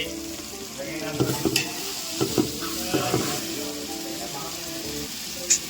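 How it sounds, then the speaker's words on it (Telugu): Chicken curry sizzles and fries in a pan while being stirred, with a constant hiss broken by several scraping clatters of the spoon against the metal, close and clear. "దోరగా ఏగే వరకు కలుపుకోవాలి"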